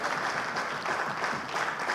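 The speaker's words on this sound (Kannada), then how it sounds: "ಒಂದು ದೊಡ್ಡ ಚಪ್ಪಾಳೆ ಅವರಿಗೆ." An audience claps for sponsors at a stage event, a steady burst of applause from a room of people, fairly close and continuous for two seconds with no talking over it.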